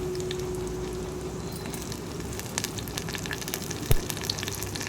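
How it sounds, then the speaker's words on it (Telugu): Mustard seeds, cumin, asafoetida and curry leaves sizzle in hot oil as a tempering for moong dal, a steady, dense crackle close by with a few sharper pops and no talking. "ఇప్పుడు మొత్తం అంతా కొంచెం ఎర్రగా వేయించేసుకోవాలి"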